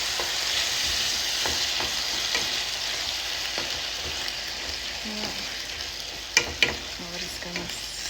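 Canned red beans in sauce sizzle and bubble in a hot pan, a constant bright hiss with scattered spoon scrapes and a couple of louder clacks toward the end.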